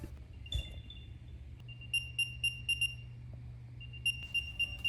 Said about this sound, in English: One way I already know I'll use it a lot is playing a sound to locate it.